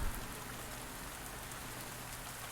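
Steady, even rain in the farming game Pumpkin Days hisses on surfaces as a constant close wash of noise with no pauses or voices.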